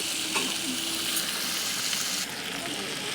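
Spices sautéing over a wood-fired stove give a steady, close hiss of frying with faint scraping of stirring, the sizzle easing slightly toward the end.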